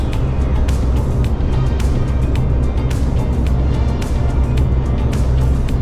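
Steady motorway traffic on the M50 through an embankment setting, a continuous loud broadband roar of cars and vehicles passing with repeated whooshes and no speech.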